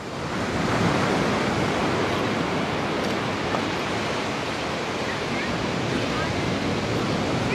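Ocean surf washes continuously onto the shore, a broad steady roar of breaking waves with wind buffeting the microphone.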